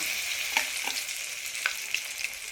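Pieces of chicken kebab sizzle in hot oil in a pan, an even close frying hiss dotted with small pops and crackles.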